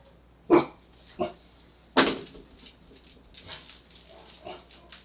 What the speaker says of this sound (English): Okay, he's just barking.